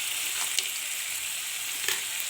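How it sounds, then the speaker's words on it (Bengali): Whole spices such as cardamom pods and bay leaves fry in hot oil for a Bengali chicken curry, giving a steady close sizzle with a couple of brief crackling pops and no voices. "এবারে মশলাগুলোকে খুব ভালোভাবে কষিয়ে নেব"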